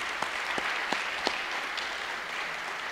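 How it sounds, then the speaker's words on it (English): Audience applause at a Little Elm Chamber of Commerce community meeting for the town's department heads as they stand: steady, fairly faint crowd clapping with a few sharper individual claps near the start. "let's give them a round of applause"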